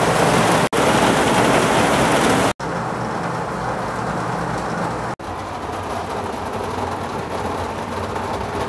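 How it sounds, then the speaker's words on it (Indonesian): Heavy rain pours down in a steady, dense hiss, loud and close, as though drumming on a vehicle's glass, with brief cuts in the sound and no talking. "Nah, hujannya deras banget ya."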